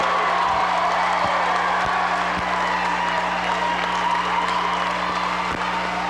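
Crowd noise from fans at a high school boys basketball game between Minneapolis, Kansas and Wellsville, a steady roar of cheering and applause that fills the gym continuously, with a few sharp thumps from the court breaking through.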